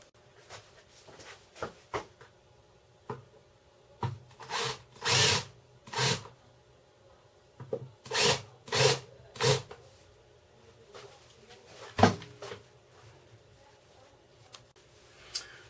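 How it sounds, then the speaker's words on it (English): Power drill with a 1/4 inch bit drilling out the rivets on a GB400 motorcycle petcock, several short whirring bursts of a few seconds each, spaced by pauses with small clicks and taps of handling. "we want to take and drill out the rivets. It's going to use a 1/4 inch bit first."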